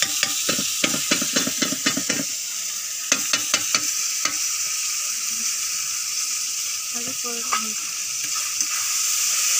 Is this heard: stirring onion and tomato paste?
yes